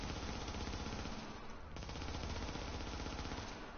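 An MP7 submachine gun firing in the video game The Division: rapid continuous automatic fire, loud and dense across the whole stretch, with only a brief dip in the middle.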